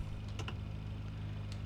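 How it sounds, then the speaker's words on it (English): Several sharp paddle-shifter clicks in Forza Horizon 4, singly and in quick pairs, over a steady low engine drone inside a car's cabin. "But that is the sound of paddle shifters."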